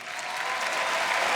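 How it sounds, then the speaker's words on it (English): Crowd of Madrid fans cheering and applauding at a League of Legends EU LCS summer final between Fnatic and FC Schalke 04, a dense, steady roar that swells slightly over a brief stretch. "Madrid fans cheering"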